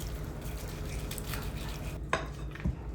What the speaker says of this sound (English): I'm going to take a knife and slice down the meat.